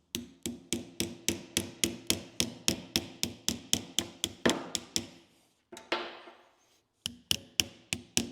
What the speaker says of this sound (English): the seal here, you're basically hammering something into it.